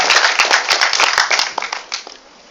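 An audience at an open house event claps loudly for a couple of seconds, sharp overlapping claps that thin out and fade near the end.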